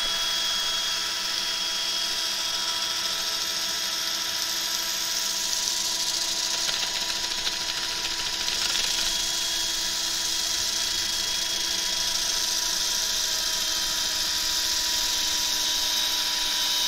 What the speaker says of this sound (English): where the bowl is solid, I can sand it as normal